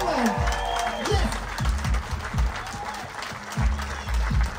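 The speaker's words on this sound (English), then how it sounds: "Clap, clap, clap! Come on, make some noise!" Crowd clapping and cheering at the Ultrace 2023 car show in Poland, loud and continuous, mixed with repeated low revving engine sweeps.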